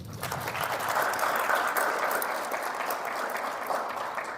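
Steady applause from an audience at a wrestling event fills the space, a dense, continuous patter of many hands that holds at an even level throughout without swelling or fading.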